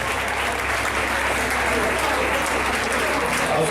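Steady, sustained applause from an audience celebrating a wedding custom gesture, dense clapping filling the room at a constant level, with voices mixed underneath.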